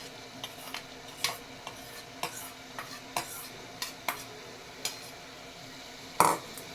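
Soaked moong dal stirred in hot oil in a pan, a soft sizzle under repeated spoon scrapes and taps roughly every half second, close and clear.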